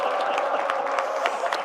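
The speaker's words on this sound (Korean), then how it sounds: "이렇게 만들어주신 대통령님께 박수 한번 우리 부탁드리겠습니다." Audience applauding and cheering at a town hall meeting in Gyeongnam, a steady, dense wash of clapping from a large crowd that holds even throughout, with scattered louder claps and a murmur of voices mixed in.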